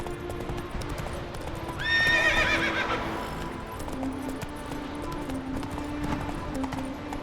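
Roach, the horse in The Witcher 3, gallops with rhythmic hoof clip-clops and lets out a loud, bright whinny partway through, continuing at pace under game ambience.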